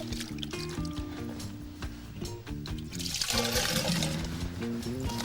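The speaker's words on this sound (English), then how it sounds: "Grab some water for us, Nick" Water scooped from a bucket to fill a cylinder in a lab demonstration, with sloshing and pouring that swells louder in the second half over steady tonal background music.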